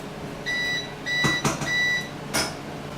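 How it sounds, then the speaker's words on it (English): A microwave oven heating a glass dish of sauce hums steadily and close by, with several short, evenly spaced high beeps sounding over the hum. "I'm just going to pop this in the microwave for about a minute to melt everything"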